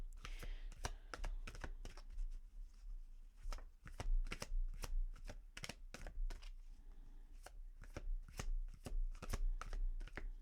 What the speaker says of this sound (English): Can we get some cards, please, Spirit, for Pisces for December?